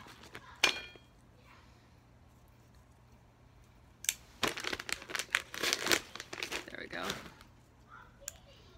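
Crinkly plastic packaging from a Japanese snack box being torn and opened, with a sharp crackle early on, then a burst of rustling and crumpling that peaks and fades, fairly close and otherwise quiet.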